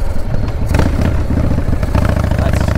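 A 1997 Harley-Davidson Fat Boy, fitted with a Dyna 2000i ignition, rumbles loud and close as it is ridden, its low engine throb steady with rattling clatter on top.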